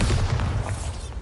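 The Bombarda spell explosion from a video game goes off as a short, heavy booming blast, loud and close, with a rumbling low burst that fades quickly.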